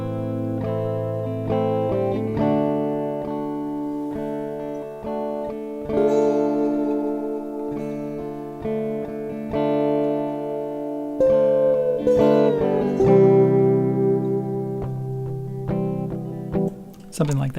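An electric guitar with effects plays the background part of a song: sustained, layered chords and held notes with slide-like pitch bends, clear and close, with no talking.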